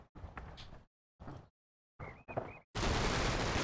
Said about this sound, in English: And there's gunfire and all sorts over this direction.